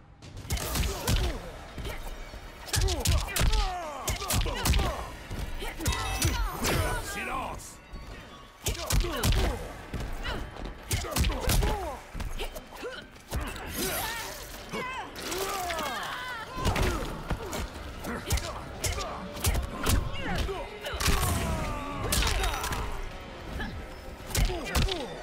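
Mortal Kombat fight sounds pile up: rapid thuds, whacks and crashes with grunts and shouts from the fighters, while an announcer's voice calls out over the combat.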